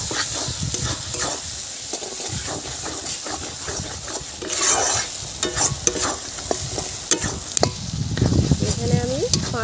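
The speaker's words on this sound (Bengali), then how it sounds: "5-6 মিনিট মশলাটা কষিয়ে নিয়েছি।" Ground coriander and cumin paste sautéing in a pan for a prawn and green banana dish, a loud, steady sizzle with frequent scraping stirs of the spatula.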